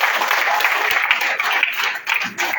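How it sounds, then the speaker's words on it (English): Applause from an audience at a political party headquarters event, steady dense clapping throughout at moderate loudness, with a brief dip near the end. "We need a bigger round of applause."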